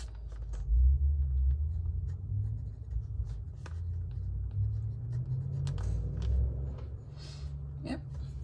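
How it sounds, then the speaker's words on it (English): A pen scratching ink onto Clairefontaine paper as a name is written, soft quick strokes and taps close up over a low rumbling background, with a voice speaking quietly partway through. "I'll just write the name of that one."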